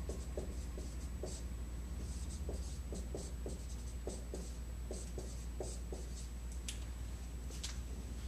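Marker strokes on a board during a math lesson on graphing rational functions: short, quick squeaky scratches come in irregular bursts, close and fairly soft, over a constant low hum, with no talking.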